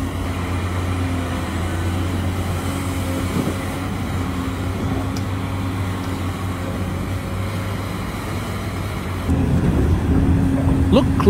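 Heavy machinery works at a mine site, with high-capacity four-axle dump trucks and excavators giving a steady, loud low engine drone and hum throughout, which grows slightly heavier near the end.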